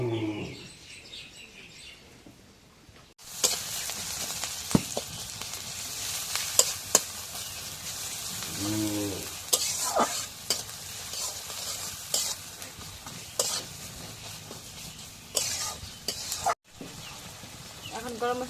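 Hot oil sizzles in a home-kitchen pan as spices and pastes fry for a Pohela Boishakh festive meal, a steady loud hiss with sharp stirring clinks, birds chirping nearby and a voice speaking now and then.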